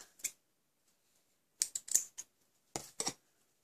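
Scissors snipping ribbon while making a birthday card, with a few crisp, close, isolated cuts in small clusters separated by near silence.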